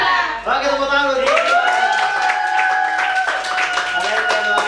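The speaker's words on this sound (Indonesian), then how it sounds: "Oke, tepuk tangan dulu." Students in a micro-teaching classroom lesson clap their hands in a quick, rhythmic patter beneath sustained, sung or chanted voices.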